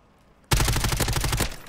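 An automatic weapon in the Modern Warfare 3 video game opens up after a brief quiet, firing a rapid, even burst of about a dozen loud shots close by before cutting off.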